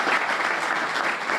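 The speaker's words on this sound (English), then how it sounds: "I also want to give a round of applause to our family members and friends" A graduation audience applauds loudly and continuously, a thick spread of many clapping hands close and full for the brief moment, with nothing else over it.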